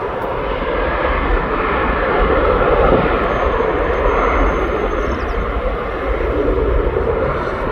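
An airplane passes over East Midlands Airport, a broad steady engine roar that swells gently and holds throughout, with no voices.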